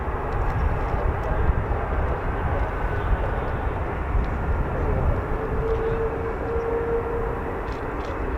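A US Air Force F-22 Raptor with Pratt & Whitney F119 engines takes off in a continuous, loud, broadband jet roar that stays steady and dense throughout, with no talk heard.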